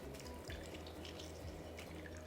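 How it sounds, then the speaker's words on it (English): Juice from a whole lemon squeezed through a strainer for shrimp Creole soup: a thin, steady trickle and patter of liquid close by, continuous and quiet, with no voices. "I'm going to squeeze a whole lemon, using my strainer to catch any seeds,"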